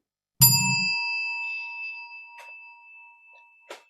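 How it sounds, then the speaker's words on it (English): A single bell struck to time a breathing exercise in a group session rings out loud and close, its bright tone decaying slowly, followed by a couple of faint light taps. "I'm going to ring the bell."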